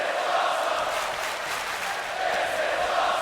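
A wrestling crowd cheers steadily through a first match of the evening, a dense, continuous roar of voices at an even level with no pauses.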